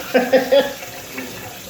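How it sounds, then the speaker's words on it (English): A spoon washed under a running kitchen tap, three quick splashy bursts of water followed by a softer trickle, close by with no talk. "And wash this spoon."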